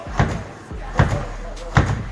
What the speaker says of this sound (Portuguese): Por isso que a porta tem dificuldade de fechar, ó.